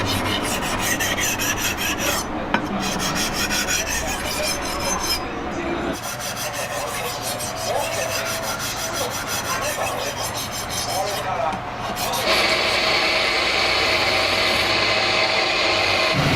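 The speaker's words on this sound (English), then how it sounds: "Finishing the cutting edge with the diamond whetstone." A knife's cutting edge being finished on a diamond whetstone in a traditional knife-making workshop, with continuous close scraping and rasping strokes, loud and steady, a brighter grinding tone in the last few seconds.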